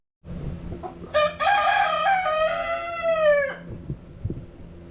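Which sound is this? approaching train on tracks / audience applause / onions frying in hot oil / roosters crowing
roosters crowing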